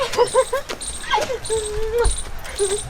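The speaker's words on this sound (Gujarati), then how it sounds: "કેવું ગલુડિયું લઈને આઈડી" A puppy whimpers and yips close by in a run of short, high, tremulous cries and squeals, with brief pauses between them.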